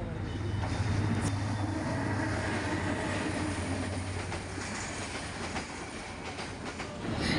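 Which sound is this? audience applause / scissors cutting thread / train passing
train passing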